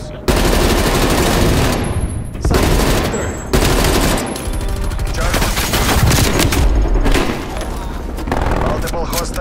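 Sentry turrets firing in the video game Call of Duty: Black Ops Cold War, with loud, dense bursts of automatic gunfire and booms. The fire runs almost continuously, and a voice speaks under the shooting.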